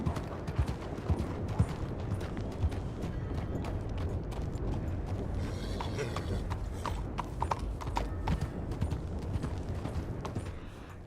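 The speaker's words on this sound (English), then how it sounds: "Could have sworn I heard a horse down here" Horse hooves clop in a steady, quick rhythm throughout in a video game, close by, over busy background noise.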